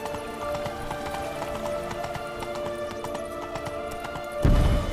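Horse hooves clip-clop steadily at a gallop in The Witcher 3, a continuous rhythmic stream of close, moderately loud hoofbeats with a brief snort or whinny near the end.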